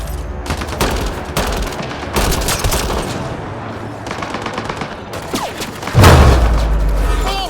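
Gun turrets in a sci-fi video game fire dense bursts of automatic gunfire at enemy men, rapid loud volleys broken by short pauses, ending in a heavy boom with a lingering rumble.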